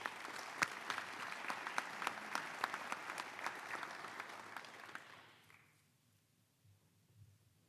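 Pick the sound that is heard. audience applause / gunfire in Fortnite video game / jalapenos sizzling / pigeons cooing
audience applause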